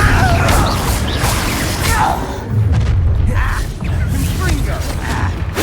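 Repeated spell blasts and booming impacts in Hogwarts Legacy, loud and dense throughout, with rumbling thuds and crashing bursts layered over continuous combat noise and voices.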